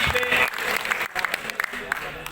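An audience in a hall at a Delhi Minorities Commission event applauds steadily and moderately loud, with an amplified voice speaking over the clapping.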